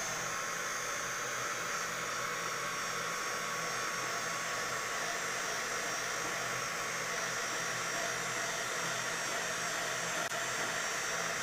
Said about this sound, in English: So let's dry this, because otherwise I will smudge everything.